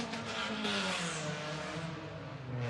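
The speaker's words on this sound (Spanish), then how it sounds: "El ruido es muy molesto, los autos. 5 días de la semana, piques y carreras." Cars race and rev on a city street at night, with a loud continuous engine roar whose pitch swells and shifts as vehicles accelerate past.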